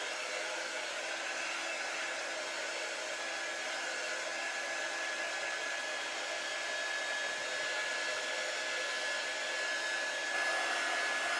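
A hair dryer blows steadily and close for the whole stretch, drying white ink on a craft project, a constant even whoosh with a faint high whine and no talking.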